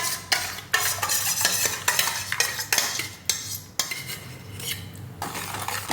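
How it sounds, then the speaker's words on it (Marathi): Mango pulp sweetened with sugar being stirred in a kadhai, a spoon scraping and knocking the metal in a quick, continuous rhythm, close and fairly quiet, with a faint simmer beneath. "हा असा सतत हलवत राहायचा 5 ते 10 मिनटं"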